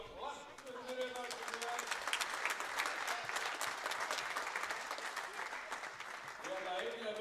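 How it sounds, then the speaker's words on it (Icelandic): Sustained applause from an indoor crowd at a volleyball Super Cup match, a dense, steady clatter of clapping filling the hall throughout, with a few voices faintly audible within it. "við skulum byrja að gefa fána liðunum gott klapp fyrir þetta"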